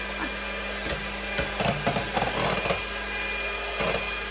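Electric mixer whipping meringue for a gluten-free lemon meringue pie, a faint steady motor whir with clattering bumps of the beaters against the bowl.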